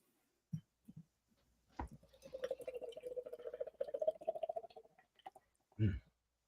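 Beer is poured into a glass, a continuous gurgling splash lasting a few seconds, framed by a few soft knocks and clinks before and after, heard up close and fairly quiet.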